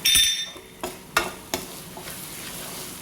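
Asafoetida powder frying and being stirred in a pan while making a mango and buttermilk pulissery curry: a burst of hiss at the start, then a few spaced scrapes and clinks of stirring over a low sizzle, with no talk.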